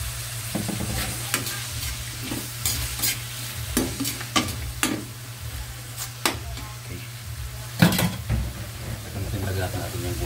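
Pork and vegetables for pakbet sizzle steadily in a pan while a utensil stirs and scrapes against it in irregular clinks and knocks, with a constant low hum beneath.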